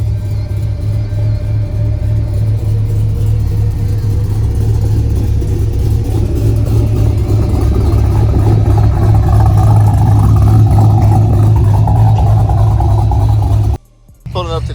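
A Camaro with a newly built transmission accelerating hard, its engine roaring loud and steady from inside the cabin as it climbs through the gears, with a brief drop near the end and a voice faintly in the background.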